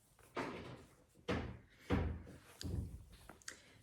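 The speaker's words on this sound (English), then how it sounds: "We have very loud doors." A loud interior door bangs shut several times in quick succession, each heavy thud followed by a short decay, with brief quiet gaps between the impacts.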